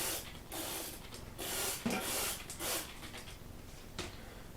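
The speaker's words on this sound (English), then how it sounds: "We're going to just spray this off like we did the last one." Cleaner is sprayed onto a Nurturelight 360 incubator in several short, hissing bursts separated by brief pauses, close and moderately loud.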